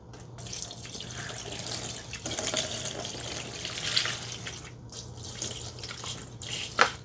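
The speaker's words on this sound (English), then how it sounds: "Now that we've rinsed it off," Console parts from a PS1 being rinsed under running water, a steady tap flow with splashes and drips continuing throughout, fairly close and without talk.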